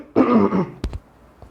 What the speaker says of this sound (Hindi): काफी खांसी आ रही है हमें